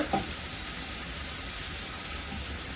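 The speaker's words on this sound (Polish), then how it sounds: "Marchewka z cebulą już są takie podtuszone." Carrot and onion stewing in a pan for Ukrainian borscht, a steady close sizzle and hiss with a couple of faint stirring knocks and no talking.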